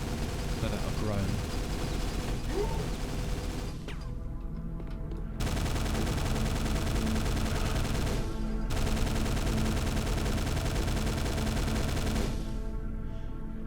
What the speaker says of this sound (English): Just firing there